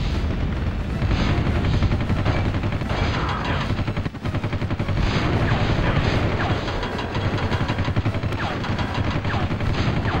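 Gunfire from a helicopter in the video game Army Men Air Attack 2, loud rapid bursts mixed with booming blasts over a heavy rumbling engine, with a brief dip partway through.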